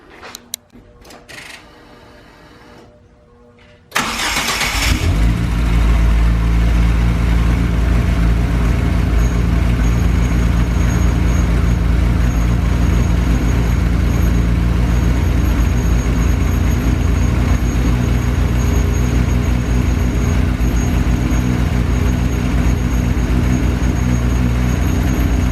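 A 1990 Eagle Talon engine cold-starts after a few seconds of quiet handling noise, catching loudly and settling into a steady, close, rumbling idle that holds for the rest of the stretch.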